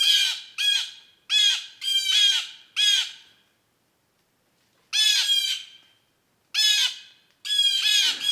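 Canada jays, also called gray jays, give harsh, shrill squawking calls in quick bursts of two to four, pausing briefly before calling again, loud and near in an otherwise quiet northern woodland.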